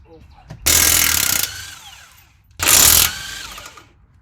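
Two loud bursts from an impact wrench loosening bolts on a Ford Flex front hub and knuckle, each about a second long and separated by a short pause.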